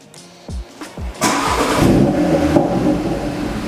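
A mini Audi TTRS starts at the press of its start button: a few short cranking bursts, then the small engine catches and revs up loudly before settling into a steady, close-up running note.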